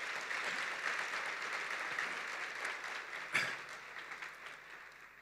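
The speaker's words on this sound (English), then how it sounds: "I think they deserve a round of applause too" Faint, distant applause from an audience at a university welcome ceremony, a soft continuous patter of clapping with one sharper clap standing out near the middle.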